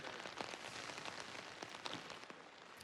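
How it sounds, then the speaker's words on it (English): Heavy rain falls steadily on a golf course during a professional tournament round, a soft, even hiss of drops that stays fairly faint throughout, with no voices. "Getting a little stickier as the rain intensifies, though."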